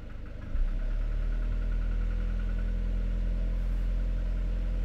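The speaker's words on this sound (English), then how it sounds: "it's that bang bang bang bang bang bang that you're listening for" A Citroën van engine starts up and then holds a steady, loud idle with a low rumbling drone and faint repetitive knocking in its tone, close to the engine bay with no speech.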